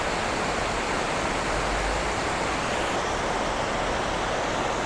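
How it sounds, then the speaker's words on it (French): The river at Blagaj, low in late August, flows in a steady broadband rush of water, close and even, with no voices. "Alors évidemment, nous sommes fin août et la rivière est assez basse."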